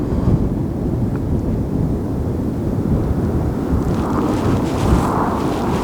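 Strong wind buffets the microphone outdoors at night during a fox-shooting outing, a loud, continuous low roar with gusts rising and falling throughout.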